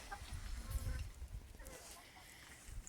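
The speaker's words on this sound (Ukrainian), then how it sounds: "Кури мають рай, я тут зрухав, вони тепер шукають хробачки, жучки." Soft, low clucking from chickens foraging close by in freshly turned ground, irregular and murmuring, with faint scratching and outdoor background noise.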